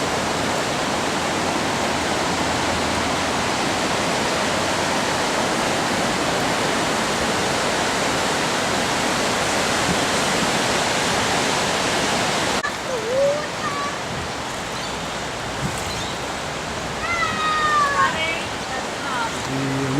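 Water rushes steadily along the River Torrens in Greater Adelaide with a broad, constant roar; partway through it drops and thins, leaving quieter flow with faint chirps over it.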